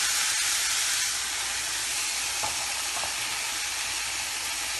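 Rice tipped into a pan of vegetables frying for restaurant-style fried rice, giving a steady, loud broadband sizzle and hiss that fills the whole stretch with a few faint stirring knocks.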